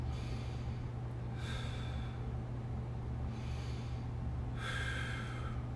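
Three slow, soft exhalations during a neck and shoulder mobility stretch, each a breathy rush of air over a quiet, steady background hum.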